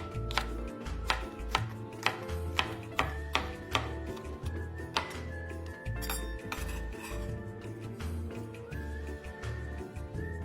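Knife chopping fresh red chilies and other ingredients on a board for Hakka five-spice pork belly, a steady run of sharp close taps with some clinks of kitchenware, no talking.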